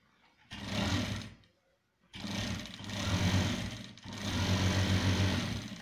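A sewing machine stitches a trouser hem in three steady runs of whirring, close and even, separated by a short pause, with no voices.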